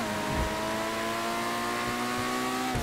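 A Pegassi Autarch supercar in GTA 5 holds a steady high engine drone at speed with a sustained revving tone, loud and close, ending in a brief shift or roar near the end, with no talking.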